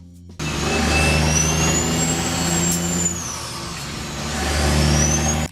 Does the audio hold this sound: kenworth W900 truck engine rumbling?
yes